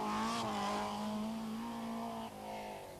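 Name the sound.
rally car engine accelerating on a stage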